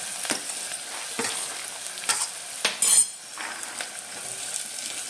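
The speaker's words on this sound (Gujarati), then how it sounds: "ડુંગળી, બટેકા બધું મિક્સમાં નાખી દેવાનું." Onions and potatoes fry in a pan with a constant soft sizzle, broken by a few spoon scrapes and clinks against the pan as the mixture is stirred.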